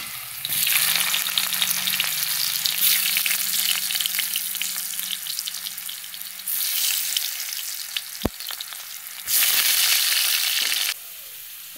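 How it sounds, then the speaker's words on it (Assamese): Cut potatoes fry in a pan of hot oil with a loud, dense, continuous sizzle that swells and eases across the stretch, with occasional stirring knocks and a low hum underneath, close and with no talking. "এতিয়া মই আলু কাটি থোৱা আলুটো ধুনীয়াকৈ ফ্ৰাই কৰি ল'ম"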